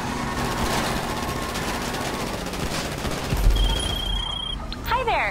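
Video game gunfire crackles in a steady dense barrage throughout, with an engine rumbling underneath and a heavier burst partway through.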